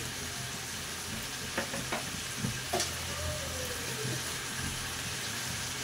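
Chicken fries in a pan as turmeric, chili powder and garam masala are added one spoonful at a time, giving a steady, even sizzle with a few soft clinks and scrapes of stirring.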